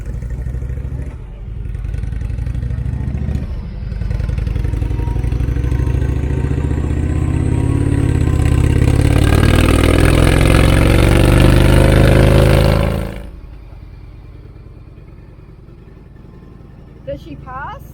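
A motorcycle engine on a dynamometer revs loudly and climbs steadily through a power run for several seconds, then cuts off abruptly, leaving a quieter idle as people talk nearby.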